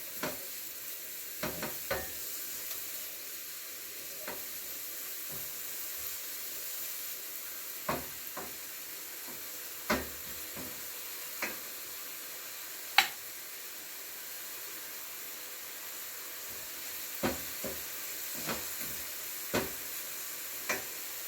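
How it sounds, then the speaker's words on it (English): Onion sautéing in olive oil in a pan, a faint steady sizzle with occasional light clicks and taps of stirring scattered throughout, no voices. "Let's add the onion. Saute this for a little bit."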